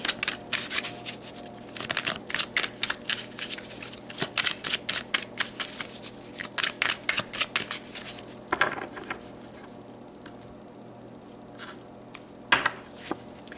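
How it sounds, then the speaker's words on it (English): A deck of tarot cards riffled and shuffled by hand, rapid bursts of fluttering slaps in a steady rhythm for several seconds, then a few quieter taps and one last snap, close up without talking. "let's pull a couple more cards to look at the lessons behind this"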